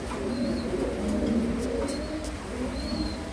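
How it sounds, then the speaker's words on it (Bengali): A pair of Mili Racer pigeons coo in low, soft rolling calls that repeat through the stretch, with faint chirps and a few light taps over a steady background hum. "মাশাআল্লাহ কবুতর জোড়াটি খুবই সুন্দর"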